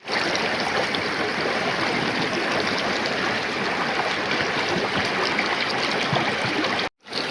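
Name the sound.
rushing water of the Bheri river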